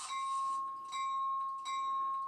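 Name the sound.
bell sound from Rapido Amtrak Downeaster model train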